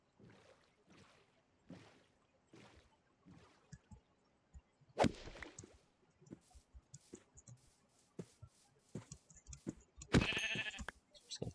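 Faint Minecraft sheep bleats are scattered among soft clicks and a few sharp hit-like bursts as a player attacks sheep in the video game.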